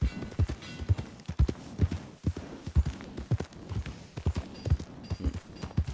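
Horse hooves clip-clop in a steady, close rhythm during a ride in Red Dead Redemption II, the beats loud and regular over a low background of outdoor game ambience.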